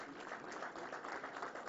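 Seminar attendees welcoming a guest speaker give steady, faint applause, a continuous wash of many hands clapping heard from a distance.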